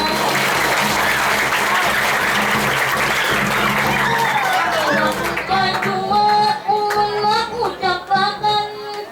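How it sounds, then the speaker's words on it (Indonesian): Loud applause from an audience at a farewell gathering fills the first half in a dense, sustained wash, then fades as musical tones and a voice take over. "mari kita bersama tepuk tangan semua"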